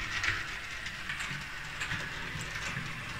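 A model train locomotive runs along the track of a home layout, giving a soft, continuous rolling rattle with light clicking at low volume and no talk.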